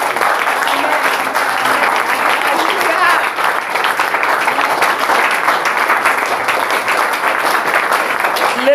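A church congregation bursts into sustained, dense applause that fills the space steadily and loudly from start to finish, with voices cheering and calling out mixed into the clapping.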